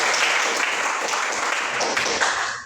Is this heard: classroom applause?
yes